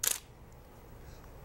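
A single crisp click of a camera shutter firing at 1/8000th of a second, close and brief, followed by near silence.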